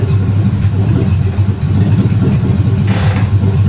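A 1967 Pontiac Firebird engine runs with its TH350 automatic transmission. It gives a loud, close, steady low rumble at idle with slight rhythmic pulsing and no talk.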